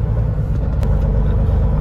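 Truck rumbling steadily as it drives out through the woods on a farm during corn harvest, a close, constant low engine and road drone with no talking.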